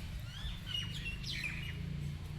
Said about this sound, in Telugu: పక్షుల కిలకిలలు.